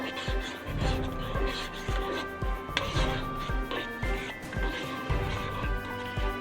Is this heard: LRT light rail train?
no